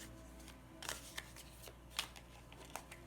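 Tarot cards are shuffled quietly nearby, giving a few faint scattered flicks and light slaps against a low background hum.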